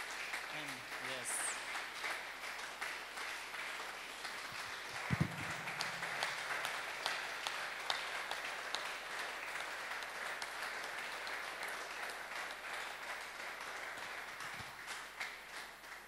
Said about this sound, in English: Our clapping has really improved.